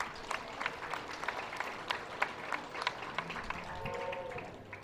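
Scattered applause at a junior fair dairy heifer show at a county fair, distinct claps from a modest crowd in a large space, fairly faint, with some background voices and a brief tone near the end.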